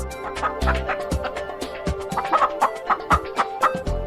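Chickens at a Los Angeles ecovillage cluck in quick repeated bursts, close by and fairly loud, with an irregular pecking rhythm and no voices.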